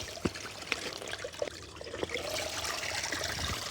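Water trickles and splashes into a Platypus QuickDraw filter bag as it fills at a backpacking water source, a quiet steady flow with a few sharper drips and knocks near the start.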